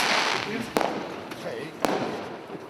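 Fireworks going off outside at night, a continuous crackling fizz punctuated by two sharp bangs, moderately distant.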